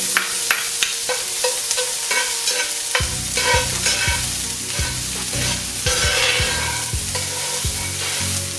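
Roughly chopped white onion sizzles steadily in hot oil in a pan for meatballs, with frequent loud stirring scrapes and clacks, becoming denser and louder partway through.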